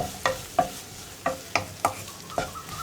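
Coriander, garam masala and fennel powders being stirred in a pan for egg curry, a series of about seven distinct scraping strokes at an uneven rhythm, close and moderately quiet with a faint sizzle underneath.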